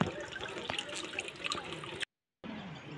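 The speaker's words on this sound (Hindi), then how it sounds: "ये जो पानी है बिल्कुल नेचुरल पानी आता है हमारा, ठंडा ठंडा पानी जिसको हम पनियार से लेके आए हैं" Cold natural spring water brought from a Himachali source runs and splashes steadily into a basin or vessel, with close dripping and gurgling. It cuts off abruptly for a moment, then resumes.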